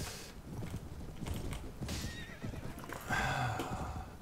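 A horse neighs in the video game Anno Domini 1257, a loud whinny rising over clip-clopping hooves and busy battle noise.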